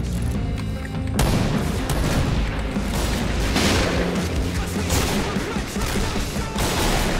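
Gunfire from the BORA-12 sniper rifle in the online shooter Point Blank, loud, dense booming blasts and crackle filling the whole stretch without pause, with a sharp onset just after the first second.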